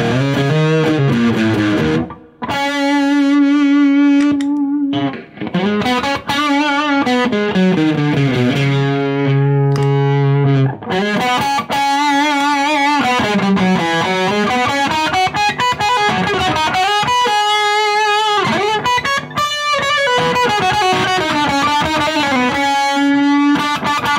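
Electric guitar played through a Boss Metal Zone distortion pedal with heavy gain, sustained saturated notes and shifting melodic lines ringing continuously with a few short gaps, loud and alone without any talk.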